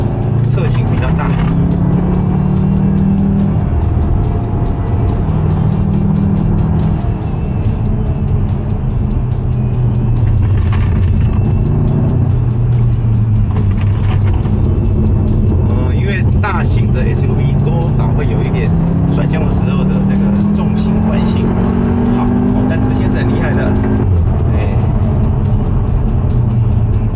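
Volkswagen R performance cars circuit a race track in Taiwan, engines droning and shifting pitch as they accelerate and pass, with steady loud road noise and a commentator talking over much of it.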